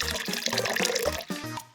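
Water trickles and splashes into a small LEGO river waste-processing plant model, a bright, close pouring with bubbly gurgles over a repeating low tone beneath.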